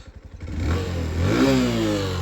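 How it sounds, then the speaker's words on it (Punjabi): A standing motorcycle engine idles nearby, starting with a rapid putter that smooths into a steady hum, rising briefly in pitch as if lightly revved, with no speech over it. "ਮੋਟਰਸਾਈਕਲ ਸਟਾਰਟ ਖੜਾ ਬਾਈ ਦਾ ਦੇਖ ਲੈ"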